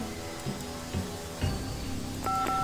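A public payphone is dialed in Deus Ex, a few short keypad tones spaced about half a second apart, then a steady dual-tone beep toward the end over faint background hum.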